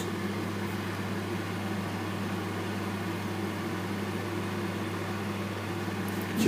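An electric 2 kW fan heater blows air with a steady, low, even hum and soft whoosh, constant and close with no talk, swelling slightly at the very end.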